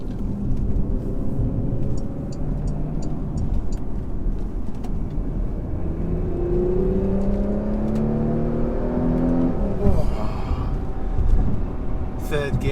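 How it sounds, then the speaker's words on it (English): A 2019 Porsche Macan S engine revving hard in third gear from inside the cabin, a loud steady drone with rising pitch sweeps that climb and cut off, under road noise throughout. "It's always third gear that you really can rev it out."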